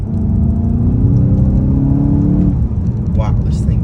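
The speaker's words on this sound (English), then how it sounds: "you hear an occasional pop and bang through the exhaust too" A 2022 VW GTI with a 7-speed DSG drones loudly and steadily under acceleration, with a brief shift near the end; a voice speaks faintly over the engine noise.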